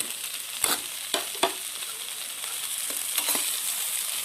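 Fried fish heads sizzle steadily in a pan of hot oil for an eggplant dish, with a few sharp crackles and spatters over a continuous frying hiss, close and fairly quiet.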